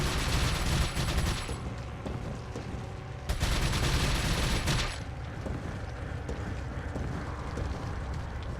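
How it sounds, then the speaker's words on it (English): Rapid TMP submachine gun fire in Resident Evil 4 on Professional difficulty, loud dense bursts that cut off and restart, over a steady roar of game ambience. "start peppering him with all I've got in terms of TMP"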